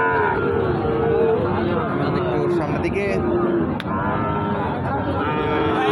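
Cattle moo at a busy livestock market, with calls rising over a steady crowd hubbub, and someone speaks briefly nearby.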